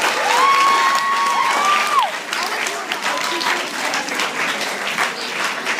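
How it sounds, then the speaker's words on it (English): An audience at Pride Academy claps in a sustained wash of applause, with a few cheers and voices mixed into the crowd noise. "Please give yourselves a wonderful round of applause"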